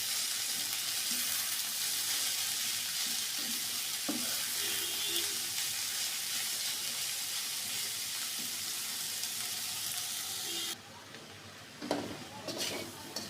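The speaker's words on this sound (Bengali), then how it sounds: "এবার বড় কড়াইতে নিয়েছি, আর ভালো করে মেশাবো।" Radish greens stirred as they fry in a large wok, a dense continuous sizzle with scraping stir strokes, close and loud, easing off near the end into a few clinks.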